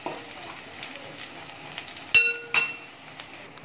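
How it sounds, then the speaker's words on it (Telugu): Fish eggs fry with chili powder being stirred in a pan, giving a soft continuous sizzle with a couple of sharp metallic clinks from the spoon against the vessel. "టూ స్పూన్స్ కారం వేస్తున్నానండి. బాగా తిప్పుకున్నాం."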